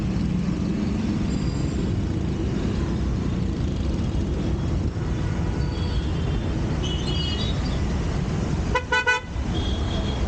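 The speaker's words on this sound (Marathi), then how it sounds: "मी त्याला हॉर्न मारतोय" A car horn honks in a quick burst of short toots near the end, over loud continuous engine and road rumble on a Mumbai street.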